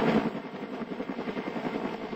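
Firefighters' rescue helicopter hovering over a canal rescue, its rotor thudding in a rapid rhythmic beat, fairly close and heard alone.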